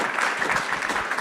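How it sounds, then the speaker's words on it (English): Audience applause fills the room after an art talk, a steady dense patter of many hands clapping at close range with no voices over it. "let's give them a round of applause"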